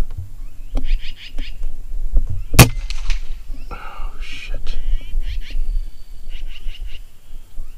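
One sharp, brief crack of an FX Impact M3 .25 air rifle rings out once in the field, set among chirping birds and soft outdoor background noise.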